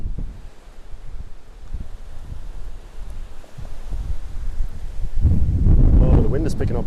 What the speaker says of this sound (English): Oh, the wind is picking up here today.